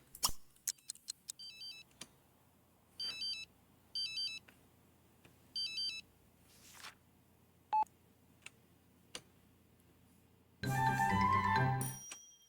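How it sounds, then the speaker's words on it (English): A phone rings in a video game in short repeated electronic trilling bursts, with scattered clicks and beeps between them and a louder noisy burst near the end. "just answer the phone"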